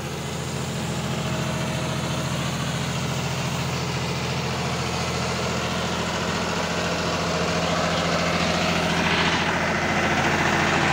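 A tractor pulling a Condor Pec 600-litre sprayer runs steadily at 1600 rpm in second low gear, a loud, close, continuous diesel drone that holds even throughout.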